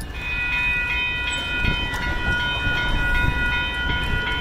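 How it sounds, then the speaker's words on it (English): An Amtrak Hiawatha passenger train hauled by a Siemens Charger locomotive rolls past close by after leaving a tunnel, giving a loud steady rumble with rail clatter and sustained high ringing tones. "and then out of the tunnel came one of Amtrak's Hiawatha service trains."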